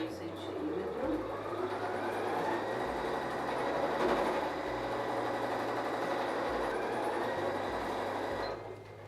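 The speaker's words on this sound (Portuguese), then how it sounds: "Então, mais uma costura aqui de meio centímetro." Sewing machine running a half-centimetre patchwork seam, a steady mechanical whir with a rapid rhythmic stitching chatter that holds for about nine seconds before stopping, with faint talk in the background.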